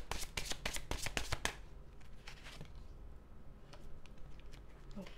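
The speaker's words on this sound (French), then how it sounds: "Je vais juste mettre les cartes du tarot et je vous en parle juste après." Tarot cards being shuffled: a fast run of crisp riffling clicks for about a second and a half, then softer scattered card handling, close and clear with no talk.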